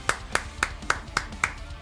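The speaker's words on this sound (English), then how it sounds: "Round of applause there." Slow hand clapping, six separate sharp claps at an even, deliberate pace, close and fairly crisp, with no talking over them.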